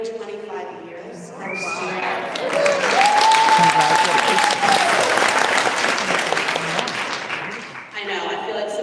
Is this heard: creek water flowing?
no